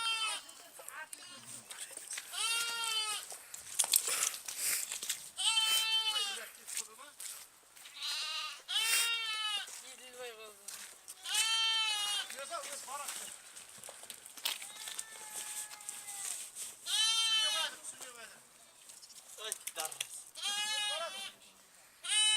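Goats and lambs bleat repeatedly, some calls close and loud, others fainter, with short pauses between the wavering cries.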